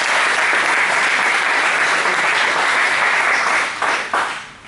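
A hall full of union delegates at an assembly in Padova breaks into loud sustained applause, dense clapping that holds steady before thinning out and fading near the end.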